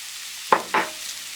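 Prosciutto and salami landing in a hot pan, two quick loud sizzling bursts close by, each fading fast over a steady low hiss.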